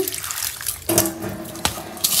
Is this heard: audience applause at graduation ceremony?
no